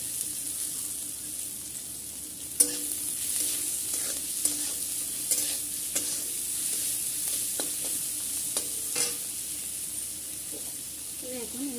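Chopped onion frying in a pan for a Bengali potato and pointed gourd curry, a steady low sizzle broken by occasional clinks and stirring scrapes, with faint background noise.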